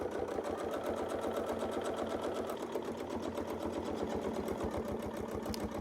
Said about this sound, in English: and now we can start sewing.